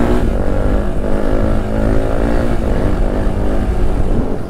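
A Suzuki DR 350 enduro motorcycle, kick-started and revving, holds a loud, steady engine drone with dense harmonics throughout, close by and without talk.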